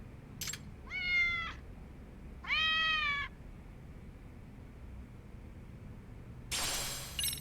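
A cat meows twice in the video game Lost Judgment, each a clear, drawn-out call with a short pause between, followed later by a brief rustling burst over a quiet background hum.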